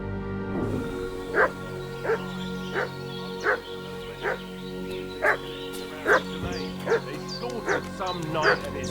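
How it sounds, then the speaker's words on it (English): A dog in the medieval village world of the game Kingdom Come Deliverance II, barking over and over in sharp, evenly spaced yips, fairly near, over a steady hum of game ambience. "What's that dog making such a fuss about?"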